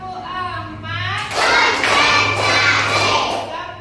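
Children clap their hands in a classroom counting ice-breaker, four quick group bursts that follow a spoken count, loud and close, with a voice talking before them.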